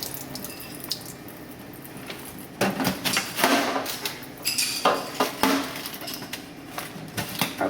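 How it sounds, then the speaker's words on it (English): Excess water splashes and trickles off a tray of growing wheatgrass, with intermittent pours, drips and light knocks of the tray against a sink. "I have a little bit of too much water, so I'm going to just try to drain that off"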